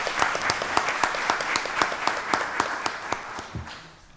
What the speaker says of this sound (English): Let's give Pastor Fox a round of applause.